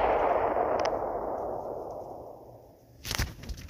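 A simulated asteroid strike on planet Earth in a game: a loud whooshing rush that fades over a few seconds, followed by a sharp burst of impact crackles near the end.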